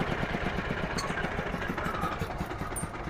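Engine of a 50 HP crawler tractor running steadily with a rhythmic low-frequency chugging pulse, close and continuous throughout.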